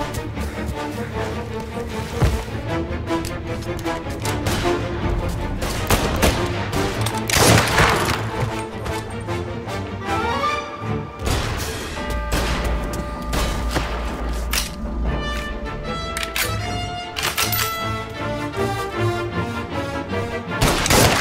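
Rifle gunfire in Mafia Definitive Edition, scattered sharp shots and bursts mixed with crashes and booms over a busy backdrop of background music, with no talking.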